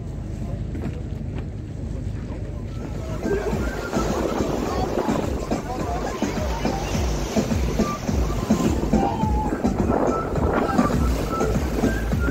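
A tourist cruise boat moves across the water at Antalya, giving a steady rumble of engine and water wash with wind buffeting the microphone throughout; someone speaks over it.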